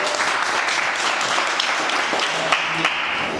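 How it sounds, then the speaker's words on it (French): An audience at a televised contest show claps together in steady, dense applause, loud and sustained throughout with a few sharper individual claps standing out. "Applaudissez pour elle."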